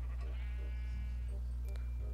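A Minecraft sheep bleats in short wavering calls over a constant low hum of game background sound, with no talking.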